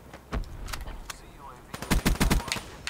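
Automatic gunfire from the video game Black Ops 3 comes in rapid close bursts, a short volley and then a denser string of shots, with faint game noise between.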